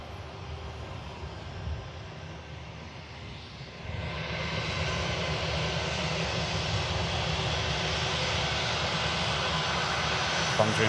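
A jet airliner arriving from Frankfurt taxis past at an airport, a steady engine roar that swells louder and fuller around midway and then holds close and broad to the end.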